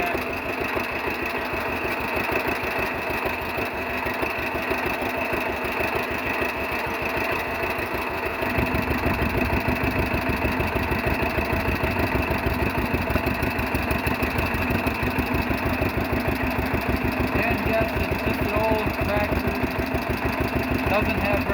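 A propane-fueled 1948 John Deere B tractor engine idles steadily while warming up, a loud, continuous low thumping chug that fills the whole stretch and grows slightly fuller partway through.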